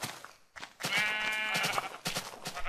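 A sheep in the Minecraft video game gives a drawn-out, nasal bleat at close range, followed by a shorter second bleat.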